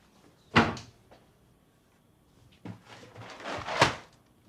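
Kitchen cupboard doors slam, a sharp close bang followed by a second burst of rattling knocks and another loud slam, with quiet room tone between.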